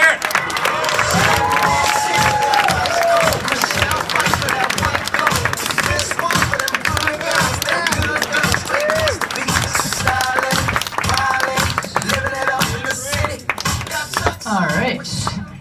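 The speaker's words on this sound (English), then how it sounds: "give a warm round of applause, Rivers, to Mr. Brad Paul, everybody" A comedy club audience at Rumors Comedy Club in Winnipeg claps and cheers loudly for a stand-up comic. The dense, steady clapping carries whoops and shouts and lasts the whole stretch without letting up.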